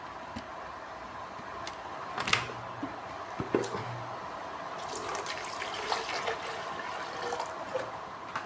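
Water trickles and splashes steadily into the tank of an HHO inhalation generator, filled until the float level indicator rises to the top, with a few light plastic knocks over the faint pouring.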